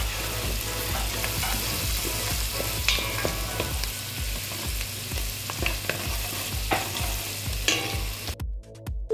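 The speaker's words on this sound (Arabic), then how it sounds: "هلأ بنزل سنون التومة." Garlic cloves frying in oil with onion, lemon and coarse mandi spices, a continuous close sizzle broken by repeated scraping stirs, no voices.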